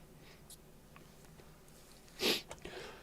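A single sharp sneeze bursts out near the two-second mark, followed by a couple of faint sniffly aftersounds over quiet room noise.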